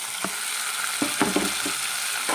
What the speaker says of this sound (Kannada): ಇದಕ್ಕೆ ಇವಾಗ ನಾನು ಈರುಳ್ಳಿಯನ್ನು ಹಾಕ್ತಾಯಿದ್ದೀನಿ ರೀ